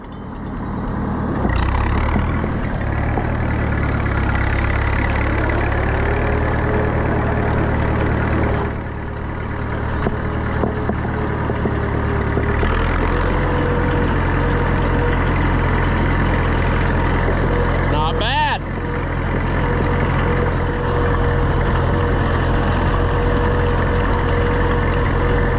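An Oliver 66 Super tractor engine runs steadily at idle for the whole stretch, a loud, constant, close-up rumble with no talking over it.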